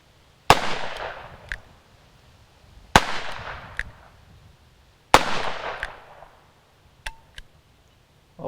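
Old, crusty ammunition rounds fire outdoors as three sharp, loud reports a couple of seconds apart, each trailing off in a decaying echo, with a few fainter clicks afterward.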